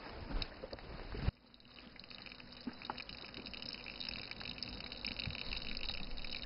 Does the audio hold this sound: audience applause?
no